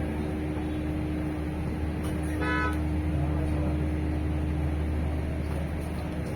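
A single car horn toots briefly in Doha traffic, Qatar, over a steady low rumble of engines and road noise.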